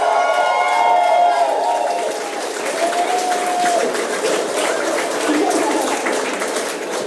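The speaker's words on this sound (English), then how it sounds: "So let's give them a round of applause." Wedding guests applaud and cheer as a steady crowd noise from the start, with some voices mixed in over the clapping.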